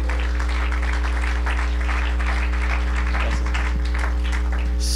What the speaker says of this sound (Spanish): denle un aplauso al Señor por la vida de nuestro hermano